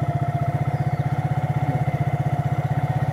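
A motorcycle engine runs close by, steady and evenly pulsing, while someone is learning to ride. No one talks over the continuous engine rumble.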